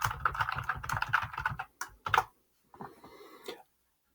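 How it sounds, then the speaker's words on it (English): Keys tapped on a computer keyboard in quick close bursts, then a pause, a few isolated clicks, and a softer final flurry of typing. "Again, type your question in"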